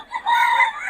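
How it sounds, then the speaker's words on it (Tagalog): A gamefowl rooster at the FCB Game Farm gives a short, close crow, one brief rising call that holds steady and is loud and clear against a quiet background. "Ito yung mga manok niya."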